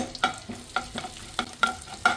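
Cumin and fennel seeds crackling in hot oil, with sharp irregular pops and a stirring scrape every fraction of a second, close up and fairly loud.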